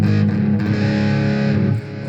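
Distorted electric guitar through Tele-style pickups, a sustained chord ringing thick and loud for about two seconds, then dipping slightly as it decays; no voices.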